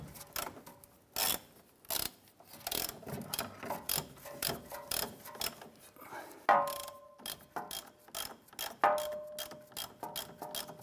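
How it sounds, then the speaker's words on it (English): A ratchet tightens a gas tank strap bolt on a 1993–1997 Ford Ranger, giving repeated close clicking bursts in an uneven rhythm with metallic scrapes and rattles between strokes. "I'm gonna go ahead and get our ratchet up in there."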